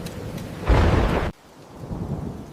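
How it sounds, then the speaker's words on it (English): A heavy rain downpour with a loud rumbling burst of thunder that swells, holds for about half a second, then cuts off, leaving steady rainfall hiss beneath. "The rain came down like the sky had broken open."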